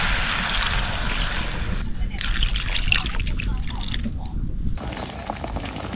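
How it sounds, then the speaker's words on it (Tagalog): Water is poured into a cooking pot already holding crabs and shrimp, a close, hissing, trickling splash that shifts in tone as the flow changes and then thins out toward the end. "Lagyan na rin natin ng tubig."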